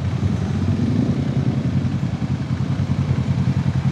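A small motorcycle engine runs steadily while riding a rough, pale unpaved road in rural Bukidnon, Northern Mindanao, with a loud, continuous low drone and faint rattling, no voices.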